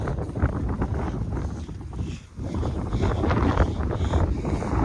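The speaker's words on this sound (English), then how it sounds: "the wind can blow all my plushies away" Strong outdoor wind buffets the microphone in a loud, continuous rumbling roar that dips briefly near the middle before surging again, with no talking.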